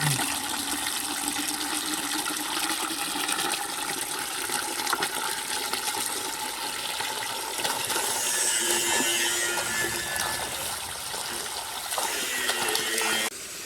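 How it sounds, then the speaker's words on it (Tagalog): A strong stream of water runs from a tap into a bucket at a farm house, a loud steady rushing that fills the whole stretch and continues unbroken, with no talking over it. "Lakas na yung tubig mga kabayan, dito tayo magkuha"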